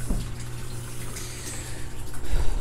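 Water drains steadily into the fish water of a stock tank aquaponics system, a continuous close splashing rush with a slight surge near the end and no talk.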